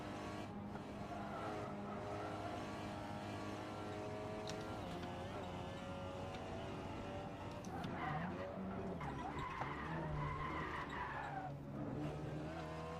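Tires squealing through a big slide on the Nordschleife in a racing video game, with a continuous engine drone underneath; the squeal rises and wavers in the second half, close and steady.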